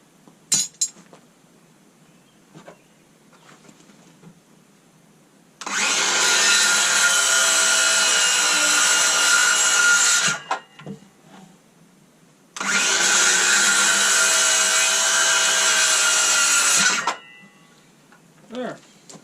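A DeWalt cordless 6 1/4-inch circular saw cuts lumber outdoors during a wood shed build. Two loud, steady cuts of about four to five seconds each are separated by a pause, with faint handling noises around them.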